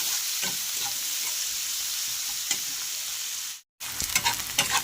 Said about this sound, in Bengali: পেঁয়াজগুলো আমি লাল লাল করে দিয়ে নেব